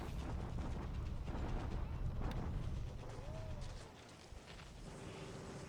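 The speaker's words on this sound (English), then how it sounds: "Bombardment here in the mountains, probably do a little damage" Artillery bombardment in mountain terrain from a WWII strategy video game: loud, continuous rumbling barrage with scattered booms, easing off partway through, with a faint rising whistle near the end.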